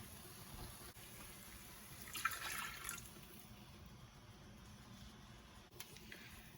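Water poured into a cooking pot of tomatoes and spices for a chicken and mustard greens dish, a brief splash and trickle that swells for about a second amid a steady kitchen hiss.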